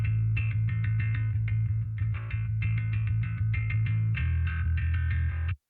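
Bass guitar run through bass forge amp processing, a thick, steadily sustained low tone with repeated plucked notes and bright harmonic attacks, loud and continuous without any voices.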